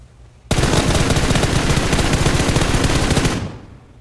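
Sustained rapid gunfire in the PUBG Mobile battle-royale game, tied to sniper fire, erupts loudly and close after a quiet start, then holds as a dense crackling roar for about three seconds before cutting off.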